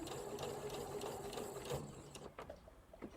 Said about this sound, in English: I'm just going to sew up to this point.